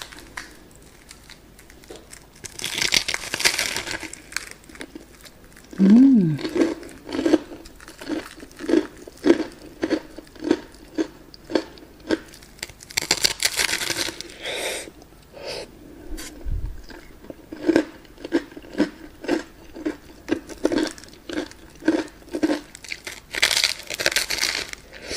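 Crunchy bites into chicken fried drumsticks coated with cheddar cheese, heard up close as a series of crisp, irregular crunching bursts with short pauses between chews, and no talking.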